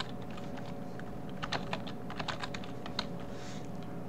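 Keys clatter on a computer keyboard as a root password is entered while installing Manjaro Linux in VirtualBox. The keystrokes are quick, uneven and soft, with no voices.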